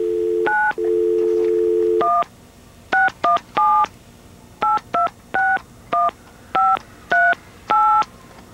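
Touch-tone telephone dialing: two longer tones open, then a rapid series of about a dozen short, clean beeps in an uneven rhythm, loud and close with no talking.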